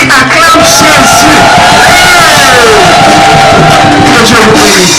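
A church congregation at a midweek revival service shouts cries of joy, a loud, sustained roar of many voices with whoops and cheers, close and filling the room.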